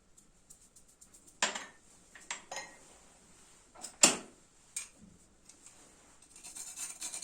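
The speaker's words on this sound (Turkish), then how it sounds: "Biraz da muskat cevizi rendeliyorum." Nutmeg grated by hand for béchamel sauce, a series of short rasping scrapes with gaps between, close and fairly quiet, no talking.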